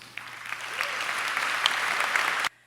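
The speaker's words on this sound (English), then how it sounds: "I think that everyone deserves a round of applause." Graduation ceremony audience at Baylor College of Medicine breaks into steady applause, a dense wash of many hands clapping that swells slightly and then cuts off abruptly.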